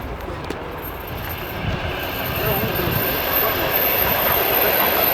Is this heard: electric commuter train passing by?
yes